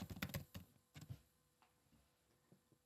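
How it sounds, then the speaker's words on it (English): Quick bursts of close computer keyboard typing as a room name is entered, with dense clusters of keystrokes early on that thin to a few scattered, quieter taps. "Typing in our room name"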